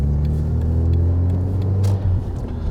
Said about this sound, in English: It's got the 3-inch straight through Cobra exhaust, which goes all the way from the turbo right the way back.